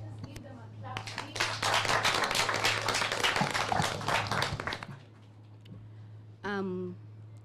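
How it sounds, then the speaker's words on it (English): An audience at a women's table banking forum in Kibra, Nairobi, claps loudly for several seconds before the applause fades, then a person begins speaking over a steady low hum. "Let us give them a clap, please."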